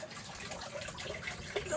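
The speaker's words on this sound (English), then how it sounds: "Water's still running." Water runs steadily with a soft hiss and trickle at an outdoor turtle and fish pond in freezing sub-zero winter weather, faint and continuous throughout.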